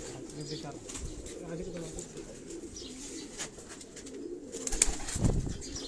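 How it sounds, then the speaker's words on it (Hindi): Pigeons coo softly on a Karachi rooftop loft, a steady low murmur with occasional wing flaps and rustles, heard from close by over faint background noise. "अब ये जो कबूतर आप देख रहे हैं सामने आपको नजर आ रहा है"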